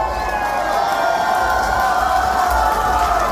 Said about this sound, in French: On y va, on est applaudis!